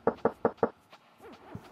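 Four sharp, evenly spaced knocks on a door in the video game Quest for Glory 2, quick and close, followed by faint scattered sounds.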